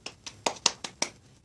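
Six sharp, sparse hand claps ring out in an uneven rhythm, close and fairly quiet, with no talking over them.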